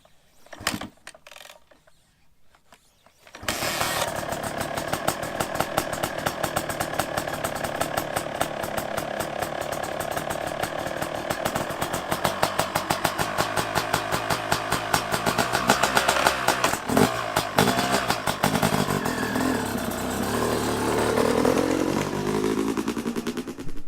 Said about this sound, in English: He's going to fire the bike up, and we're going to go out on the track.